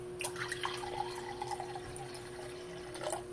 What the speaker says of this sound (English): Some fresh ambrosia, unfiltered, straight raw. Let you see how it pours.